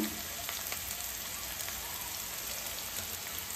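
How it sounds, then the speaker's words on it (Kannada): Ginger garlic paste sizzles and crackles steadily in hot oil in a pan for an egg burji, close and constant with no voices. "ಹಸಿ ವಾಸನೆ ಹೋಗೋವರೆಗೆ ಚೆನ್ನಾಗಿ ಫ್ರೈ ಮಾಡ್ಕೊಳ್ಳೋಣ"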